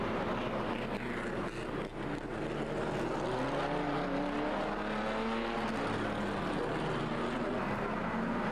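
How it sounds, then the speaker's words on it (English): Pre-1961 front-engined Grand Prix racing cars roar through practice at the 2004 Historic Grand Prix in Monaco, engines loud and close with rising and falling pitch as the cars pass and shift gears. "This is the first practice session for the pre-1961 front-engined Grand Prix racing cars"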